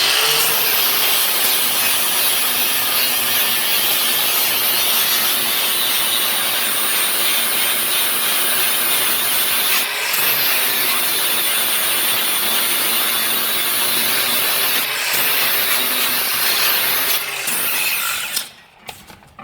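Angle grinder grinding and rounding off sheet-metal edges on a rat rod, a loud continuous high-pitched whine with brief dips in pitch, running steadily for most of the clip before cutting off near the end.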